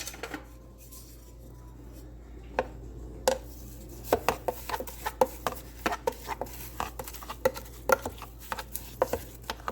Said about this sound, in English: So let's mix it by hand